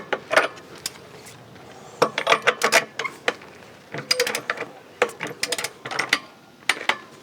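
Wrench clicking and ratcheting while a pipe tap fitting is torqued down, with bursts of metallic clicks and clatter in irregular clusters, close and fairly loud, with no talk.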